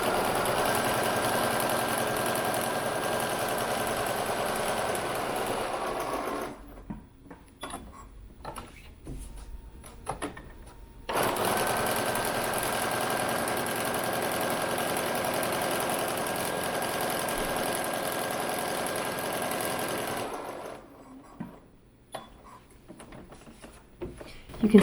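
A sewing machine stitching an apron-style wrap dress runs in long steady whirring passes, stopping briefly at the corners while the needle is sunk and the fabric pivoted, then running again. Quiet shuffling fills the pauses.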